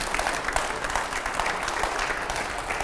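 Studio audience on a Hindi political talk show applauds ahead of a rapid-fire round, a short, even burst of many hands clapping close to the microphone without talk.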